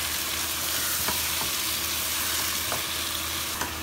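Tomatoes sautéing in a frying pan with already-softened ingredients, a loud close continuous sizzle with a few soft stirring taps, no voices.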